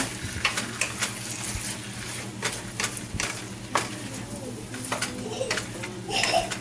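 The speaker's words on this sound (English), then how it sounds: "Go ahead and add our shrimp. Mix that around." Shrimp hiss and sizzle in a hot pan as a utensil stirs them with repeated scraping knocks, with a voice faintly audible in the background.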